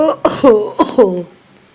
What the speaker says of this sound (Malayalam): ഭയങ്കര ചുമയാണ് ശരിക്കും